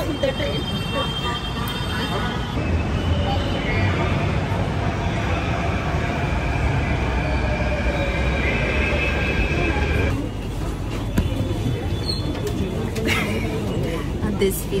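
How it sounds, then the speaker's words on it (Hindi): A Mumbai metro train rumbles steadily for most of the stretch, a loud continuous roar of rolling wheels and motors. The tone changes near the end as it slows or shifts. "I think one train has come."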